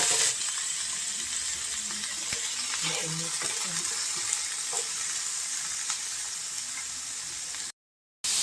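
Seasoned raw pork, coated with ground pepper, turmeric and salt, sizzles and fries in a pan for menudo, a steady hiss with faint clinks, continuous and close throughout before a short dropout near the end.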